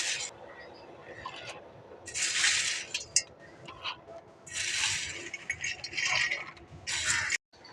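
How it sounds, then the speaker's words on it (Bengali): Dry pasta, about 250 grams, rattles and clinks as it's poured into a pot of boiling salted water with a little oil, several bright crackling bursts over a low simmering hiss. "জলটা ফুটে গেছে, এর মধ্যে এখন দিয়ে দিচ্ছি 250 গ্রামের মতন পাস্তা।"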